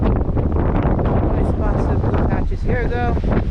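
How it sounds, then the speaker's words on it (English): Strong wind buffets the microphone on a breezy, cloudy tropical beach by a lagoon in Bantayan, Cebu, a loud continuous roar with gusts, and a voice briefly heard through it near the end. "today is very breezy"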